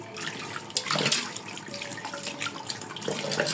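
Hilsa fish washed under running tap water: a close, continuous splashing stream with uneven gurgles and spatters as the fish is handled, and no one speaking.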